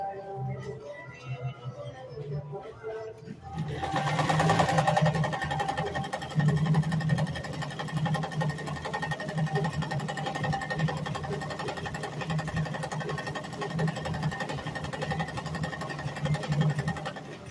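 A vintage Kenmore 117.841 sewing machine runs a three-step stitch, with a steady, close mechanical whirring and rapid needle chatter that starts after a brief quiet moment and continues evenly, with no talking over it.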